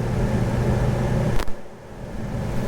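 Big 8.1L V8 in a 2002 Chevrolet Suburban 2500 LT 4x4 with 4.10 gears pulls steadily under load, a low continuous engine drone heard from inside the cabin, with a brief thump near the middle.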